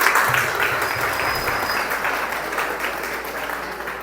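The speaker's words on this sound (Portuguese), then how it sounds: "Uma salva de palmas para nós, né?" Loud crowd applause from a church congregation fills the space, a dense continuous clapping that fades gradually over a few seconds, with a brief murmur of voices early on.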